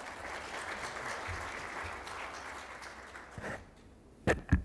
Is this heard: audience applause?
yes